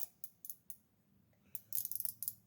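A Gearwrench flex head ratchet wrench clicks as it is turned back on a fastener, sparse crisp ticks at first and then a rapid run of sharp ratcheting clicks, close and quiet with no talk.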